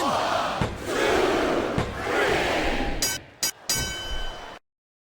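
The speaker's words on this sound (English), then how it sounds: "I love hearing the crowd come alive" A video-game arena crowd in WWE Smackdown vs Raw 2007 roars and cheers in loud, swelling waves, broken by a few sharp bursts before cutting off abruptly into silence.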